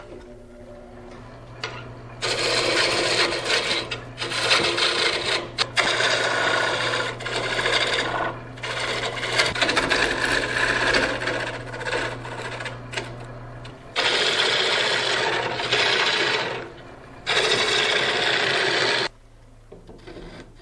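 A wooden tool handle for a steel mattock is turned parallel on an off-grid lathe, producing loud rasping cuts in long bursts separated by short pauses, over a steady low motor hum.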